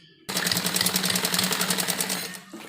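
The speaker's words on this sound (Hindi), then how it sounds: "उल्टी साइड हम इसको फोल्ड करके एक कच्ची सिलाई लगाएंगे" A sewing machine starts abruptly and runs a fast steady stitch along a folded fabric edge for a girl's pleated frock, buzzing evenly up close before slowing and stopping near the end.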